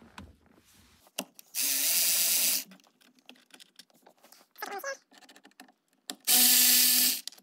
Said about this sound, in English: take a T25 Torx bit and remove the 2 Torx screws that are here